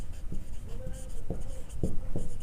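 Pen or marker scratching across paper or a board while an equation is written out for a sixth-grade maths exercise, in short irregular strokes with a few sharper taps, close and fairly quiet, with no voices.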